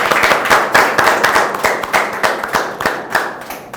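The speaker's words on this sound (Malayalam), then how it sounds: "അപ്പോൾ നമുക്കൊരു കയ്യടിയോടെ സ്റ്റാർട്ട് ചെയ്താലോ?" An audience claps to open a live talk show, with loud, distinct claps coming in a quick, roughly rhythmic series and no voices over them.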